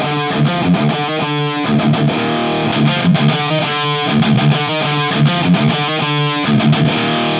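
Heavily distorted electric guitar played through a brutal metal distortion pedal into a Marshall Valvestate 8100 amp, loud chugging riffs with rhythmic palm-muted stops and bursts, steady and alone with no talking.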